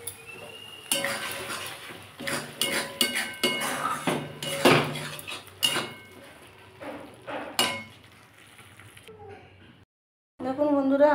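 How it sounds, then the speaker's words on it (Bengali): Metal spoon scraping and clinking against a pan as onion prawn curry is served into a bowl, a run of sharp close clanks and scrapes that thin out toward the end. "আমি এবার বাটিতে তুলে নিচ্ছি।"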